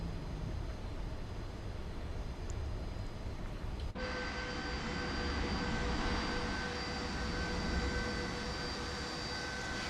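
A fixed-wing aircraft takes off in Microsoft Flight Simulator 2024, departing Telluride: a steady broadband engine roar that abruptly swells after a few seconds into a louder, sustained rush with whining tones, continuous and close.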